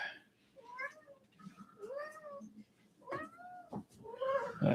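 A cat meowing in a video game, several distinct rising and falling meows spaced a second or so apart, fairly quiet and clear with nothing else over them.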